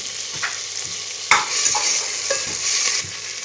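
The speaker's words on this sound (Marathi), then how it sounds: "टोमॅटो आणि कांदा एक जीव होईपर्यंत कांदा आणि टोमॅटो भाजून घ्यायचं" Onion and tomato fry in a pan for biryani while a spoon stirs them, giving sharp scraping strokes every half second or so over a continuous bright sizzle.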